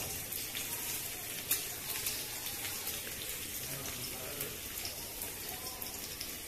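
Chopped onion frying in oil in a wok makes a soft, continuous crackling sizzle, fairly faint and even throughout.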